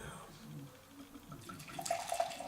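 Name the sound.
homebrew abbey ale beer being poured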